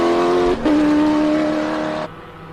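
A race car on wet weather tyres screams up a hillclimb course, a loud, high engine wail with one brief gear change before it cuts off abruptly as it passes.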